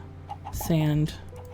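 A short synthetic chicken cluck from a Minecraft modpack rings out once, bright and tonal, against faint background ticking.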